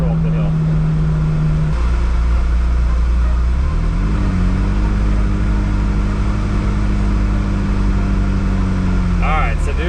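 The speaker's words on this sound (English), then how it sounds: "We'll do a little launch control up the hill." A McLaren supercar launches uphill on a road, its engine holding a steady drone before climbing in pitch through a sustained, loud run, with speech-like sounds heard faintly under the engine.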